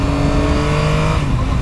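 A 2024 Yamaha XSR900 GP motorcycle engine pulling under acceleration, heard up close as a loud, steady, buzzing drone with wind noise, holding its pitch before easing slightly near the end.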